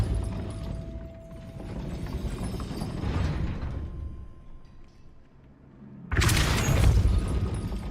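A Depulso spell cast in the Hogwarts Legacy video game, sounding as a sudden loud whooshing blast that follows a stretch of grinding mechanical rumble and clanking.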